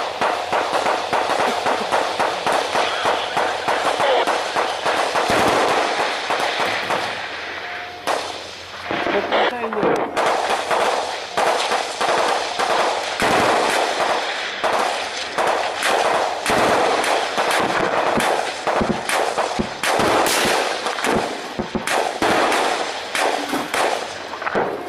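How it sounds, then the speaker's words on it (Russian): Heavy gunfire during a firefight in Ilovaisk, Ukraine, with dense, rapid cracks and bursts nearly continuous for the whole stretch, loud and close, a brief lull partway through and voices talking amid the shooting. "Чуешь, пулемет там стреляет?"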